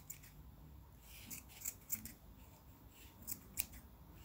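Scissors snip through wound yarn while a pom-pom is being made, giving a few quiet, close, crisp cuts spaced irregularly over faint background noise.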